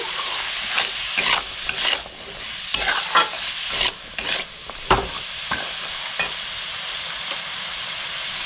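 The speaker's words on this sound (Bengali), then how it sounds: "নুনটা দিয়ে আমি মিক্স করে নিচ্ছি" Salt is stirred into chicken soup in a pan, giving loud, close bursts of sizzling and scraping strokes at an irregular rhythm over a continuous hissing simmer.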